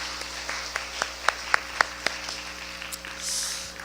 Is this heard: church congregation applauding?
yes